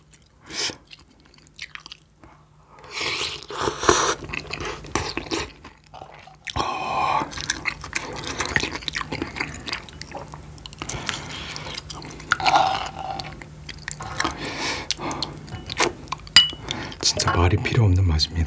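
Someone eats spicy Jin Jjambbong ramen stir-fried with shrimp, with close, soft chewing and slurping, cutlery clinking against a bowl, and brief quiet talk in between.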